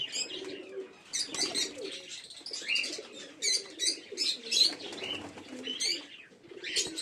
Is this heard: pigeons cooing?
yes